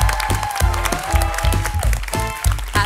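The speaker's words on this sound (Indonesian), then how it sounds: "Kita berikan tepuk tangan untuk Mbak Muriel Makarim." Studio audience applauding on a live Google Indonesia quiz show about recognizing misinformation, steady clapping throughout with music-like tonal lines running underneath.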